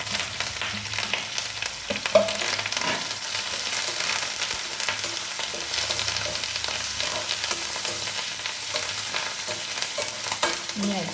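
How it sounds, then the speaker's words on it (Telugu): Ghee tempering with green chillies and curry leaves sizzles in a pan while being stirred for coconut rice prasadam, a continuous close frying crackle broken by occasional scrapes of a spoon. "ఇలా నెయ్యిపోపు ఎగుతూ ఉంటే మంచి కమ్మట స్మెల్ వచ్చేస్తుందండి"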